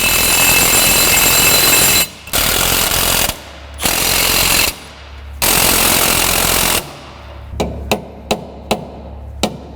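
Lock nuts being driven onto bolts on a truck with a power tool: several long, loud rattling bursts separated by short pauses, then a run of quick, sharp hits close by. No one talks.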